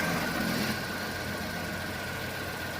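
A car engine, started from a sodium-ion battery, runs at a steady idle with a constant low rumble and a faint whine, close and unchanging, with no voices.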